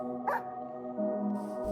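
Dog in the Minecraft video game making short barks and whimpering yips, one brief burst near the start and more near the end, over a steady game music or ambient tone.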